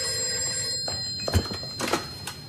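A telephone bell rings in short bursts, with two clear rings close by and a steady electronic tone underneath, and no one talks over it.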